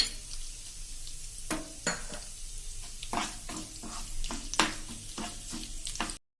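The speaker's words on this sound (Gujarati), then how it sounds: "અડદની દાળ પણ સરસ સંતળાવાની તૈયારી થઈ ગઈ છે." Urad dal and nigella seeds sizzle in hot oil, a close steady crackle punctuated by repeated sharp stirring scrapes and clinks against the pan.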